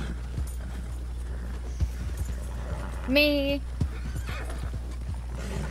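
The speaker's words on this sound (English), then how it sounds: "Did not see that horse there." Horse hooves clip-clop in Red Dead Redemption 2 game audio, with one loud whinny rising about midway over a steady low hum, while players talk.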